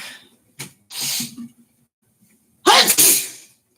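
Three sharp sneezes burst out in quick succession, the last one loudest and closest, with short silent gaps between them.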